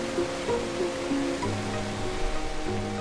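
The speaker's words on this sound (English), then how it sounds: "From beyond the mountains, the sound of Margoon Waterfall can be heard." Margoon Waterfall in the mountains of Fars, southern Iran, gives a steady, even rush of falling water. Faint, intermittent tonal sounds sit above the rush, and no voices are heard.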